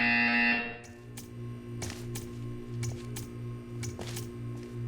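A steady electronic buzzer tone from Portal 2 sounds loudly for a moment and cuts off, leaving a low hum with faint clicks and ticks.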